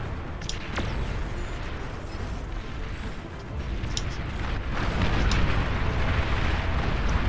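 Explosions roar through a battle in the real-time strategy game Beyond All Reason, a dense rumbling barrage with sharper pops and booms breaking through, swelling louder toward the end.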